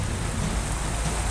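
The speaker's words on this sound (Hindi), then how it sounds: "सीएम शिवराज के गृह जिले सीहोर में भी जबरदस्त बारिश हो रही है।" Heavy monsoon rain pours down in Rehti, Sehore district, a dense, steady roar of water hitting the ground, loud and unbroken throughout.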